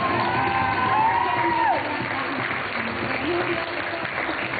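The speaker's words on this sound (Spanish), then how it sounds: "Un aplauso para todos ellos." A theatre audience applauds with cheers and whoops after a dance performance, loud crowd clapping mixed with shouting voices and a rising, falling cheer.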